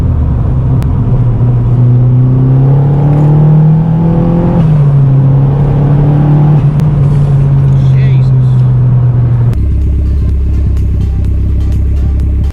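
A boosted Vauxhall Corsa B with a C20LET engine drones steadily and then rises in pitch, dropping back as it shifts gear, with a rougher low rumble near the end.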